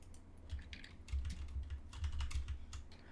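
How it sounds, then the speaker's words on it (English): Rapid clattering keystrokes on a computer keyboard picked up through a gamer's microphone during a Minecraft Hunger Games match, a steady close-up patter of clicks with no voices. "Palmer, can you mute your mic so I don't hear you typing?"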